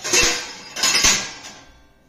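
Freshly washed dishes are lifted out of a dishwasher, giving two bright clattering clinks of crockery and utensils close by, each ringing briefly before fading.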